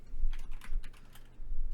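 Fingers typing search keywords on a computer keyboard, a quick run of close, light key clicks in a quiet room.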